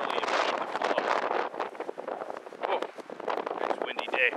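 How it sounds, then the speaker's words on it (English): Steady wind buffeting the microphone outdoors, a rough, broadband rushing that rises and falls in gusts throughout, with voices faintly mixed in. "Oh, it's a windy day."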